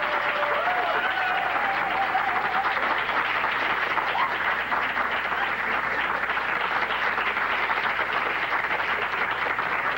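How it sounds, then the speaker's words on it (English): A studio audience bursts into big, sustained applause for a show's premiere, a dense, steady wash of clapping that holds at full strength for the whole stretch with no pauses. "we can do some really, really, really big applause"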